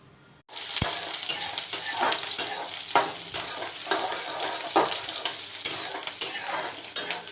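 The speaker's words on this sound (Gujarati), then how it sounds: "તો મરચાં તળીને કાઢી લેવાનું." Whole slit green chillies frying in oil for a guava-chilli curry make a loud, constant sizzle that begins abruptly, broken by repeated scrapes and knocks of a stirring spoon, with no voices.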